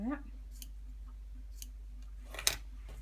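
A few quick scissor snips trimming a yarn pom pom, faint and close, with a sharper cut near the end over a low hum, and a brief voice at the start.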